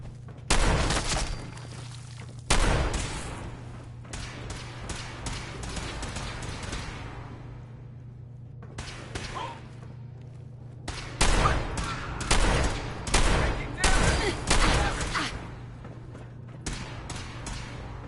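Gunfire in the video game Fallout 4, loud bursts of rapid repeated shots in several volleys with brief gaps, over a steady low hum of background game sound.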